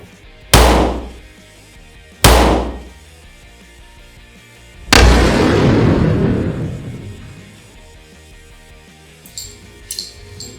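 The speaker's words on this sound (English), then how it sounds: "Let's shoot the bottom left quadrant of the gel." A Kimber 1911 pistol with a 3-inch barrel fires into ballistic gel. Three loud, sharp gunshots come outdoors at irregular intervals, and the last one leaves a long rolling echo before a few faint clicks.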